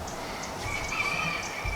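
A rooster crowing, one drawn-out call rising over a faint background hum, heard alone and moderately loud.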